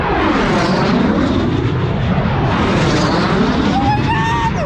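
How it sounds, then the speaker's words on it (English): A jet race plane screams past a course pylon at the Reno Air Races, a loud, continuous roar with a sweeping Doppler shift, heard close and unbroken throughout. "jet's coming."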